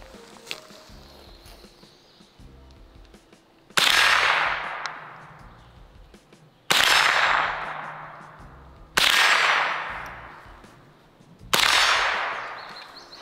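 A .22LR AK-47 trainer rifle fires outdoors, four sharp, loud single shots spaced a few seconds apart, each followed by a long ringing echo that fades away.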